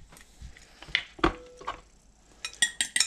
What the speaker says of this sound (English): we need to break an egg